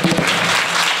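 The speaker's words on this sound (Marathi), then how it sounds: "फक्त पुरुष मंडळ एकदा जोरदार करावून टाळ्या होऊन जाऊ द्यात" A kirtan audience of men claps together in a short, loud burst of applause lasting about a second.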